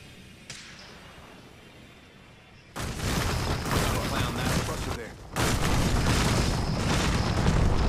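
A frag grenade detonates in the Apex Legends video game, two loud booming bursts arriving a few seconds apart, each sustaining a heavy roar after a quieter stretch.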